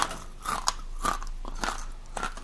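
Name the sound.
biting crunchy roasted salt and vinegar chickpeas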